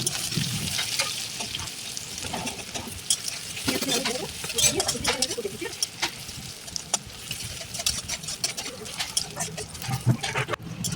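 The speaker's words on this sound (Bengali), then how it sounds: "তেলটা গরম হয়ে গেলে এর মধ্যে পেঁয়াজ দিয়ে পেঁয়াজটাকে ভেজে নেবো লাল লাল করে।" Onions fry in hot oil in a kadai with a bright, hissing sizzle, broken by irregular clatters and scrapes of stirring throughout.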